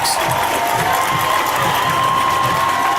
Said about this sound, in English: crowd gets a little back into the game.